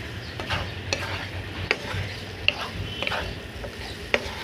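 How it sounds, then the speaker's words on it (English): Cherry tomatoes roasting in a pan are flipped lightly with a utensil, producing soft scraping stirs and a few sharp clicks over a low, steady sizzle, close by and without speech. "See how tomatoes are dancing. I'm going to just flip them lightly."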